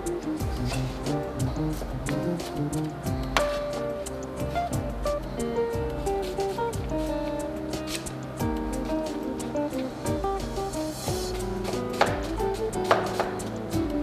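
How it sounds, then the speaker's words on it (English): A knife chops through white onion in quick, uneven strokes, the cuts loud and close yet partly buried under steady background music. "Now, I will cut some onion."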